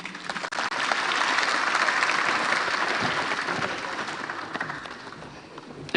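Loud sustained applause from a large crowd at a political manifesto launch in Kasarani, Kenya, a dense clapping roar lasting several seconds with a brief dip near the start.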